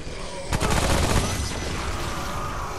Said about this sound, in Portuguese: Vou começar a atirar e jogar a torreta